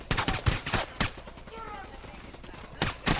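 Short volleys of gunfire in Ghost Recon Wildlands, a quick cluster of shots at the start, a lone crack near one second, then another burst at the end, with a faint voice in the quiet middle.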